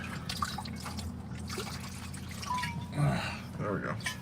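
Water trickles and drips as it is poured into a dog's bowl indoors after a hike, with a person talking over the steady dribble throughout.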